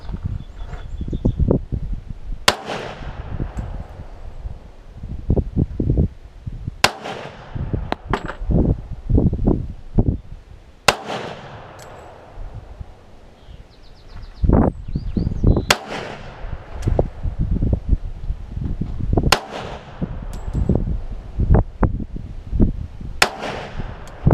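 A Ballester Molina pistol fired outdoors at a range, about a dozen sharp, loud shots spaced several seconds apart, each with a short echoing tail over breezy background noise.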